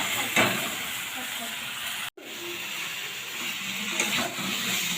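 Pointed gourd and tomato frying with spices, salt and turmeric in a pan give a steady close hiss and sizzle throughout, broken by one brief moment of silence partway through, with a few faint clinks.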